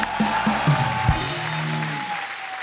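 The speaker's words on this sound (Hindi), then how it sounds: "बहुत जोरदार तालियां हो जाएं हमारे मेहमानों के लिए।" A studio audience applauds loudly and steadily on a TV comedy talk show, a dense wash of clapping that carries through while some tonal music sounds underneath.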